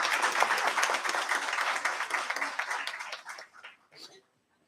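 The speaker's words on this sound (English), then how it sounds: "Everyone, please have a round of applause." Audience applause at a university book launch ceremony, a burst of steady clapping that thins out and fades to a few last claps before silence.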